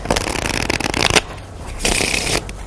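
Two bursts of playing card shuffling, a riffling flutter in the first second and another near the end, with a quieter pause between.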